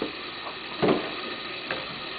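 Milk being whisked into a sauce in a pan, a soft steady bubbling hiss with a couple of brief whisk scrapes, close and fairly quiet.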